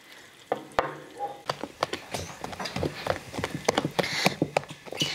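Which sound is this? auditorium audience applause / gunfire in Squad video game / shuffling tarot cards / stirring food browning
stirring food browning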